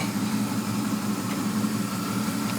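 A 1995 Impala with an LT1 V8 idling close by, a steady low rumble holding even throughout with no talk.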